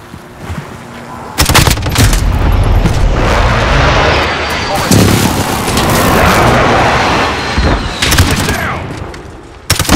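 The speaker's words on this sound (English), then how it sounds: "Allied precision airstrike incoming" Precision airstrike explosions in Call of Duty: Modern Warfare, a loud sustained barrage of booms and blasts rolling for several seconds with sharp bursts at the start and end, mixed with gunfire and voices calling out.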